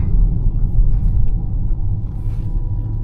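An electric car driving on the road gives a steady low rumble of tyres and cabin noise throughout, with no talk.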